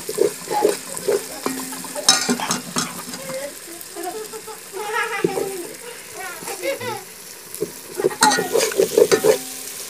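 Tomatoes in a hot tempering for gobi salan sizzle in the pan as a spoon presses them, with scraping and clinking strokes over a steady fry, while a person talks throughout.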